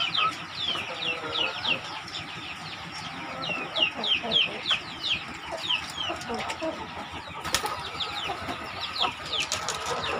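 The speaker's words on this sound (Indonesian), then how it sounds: "Ini yang ayam usia 4 bulan Pak." Four-month-old KUB chickens, roosters and hens together in a grow-out pen, cluck and crow in a steady, busy chorus close by, with shorter calls overlapping throughout and a faint engine hum and low human voices underneath.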